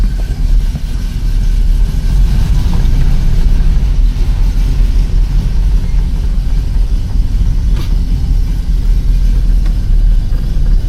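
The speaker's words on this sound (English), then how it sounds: "Let's go ahead and give her a test drive." A 1974 Dodge Challenger engine rumbles steadily and loudly from inside the car while driving, a continuous low drone with no voices.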